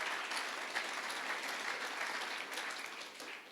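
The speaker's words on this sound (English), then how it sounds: "I think we should give him a round of applause." Audience at an awards banquet applauding: continuous, even clapping from a sizeable crowd heard at a moderate distance, tapering off slightly at the end.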